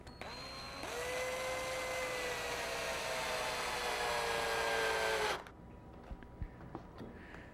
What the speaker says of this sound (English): we're going to start off with one of our small screw eyelets, which fits into this tool, and we're going to just drive it right into the wood